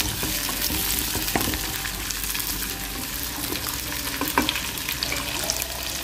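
Masala for fish curry sautéing in a pan, a continuous sizzle with scattered scrapes and taps of a spoon against the pan.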